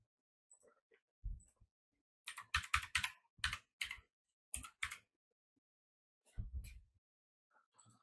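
Someone types on a computer keyboard in short bursts of quick clicking keystrokes separated by pauses, close and fairly quiet.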